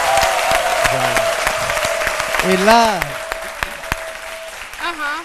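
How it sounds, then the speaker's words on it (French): Audience applause for a reggae artist fills a French-language midday TV talk show, a steady crackle of clapping running beneath speech, with sharp individual claps standing out. "Vraiment que je souhaite qu'on applaudisse le personnage."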